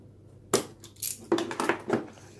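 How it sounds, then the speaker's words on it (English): Knife cutting open the seal of a Samsung Galaxy S10 phone box: a sharp scrape after a quiet start, then a series of short crisp plastic cuts and rustles, close and fairly loud. "Got the knife and cut it open over here."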